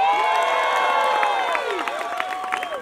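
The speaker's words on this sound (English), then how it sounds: "It gets better. It gets a round of applause." A Renaissance Faire street show crowd cheers and whoops, with voices sliding up and down in loud shouts and some scattered clapping underneath, all close and lively.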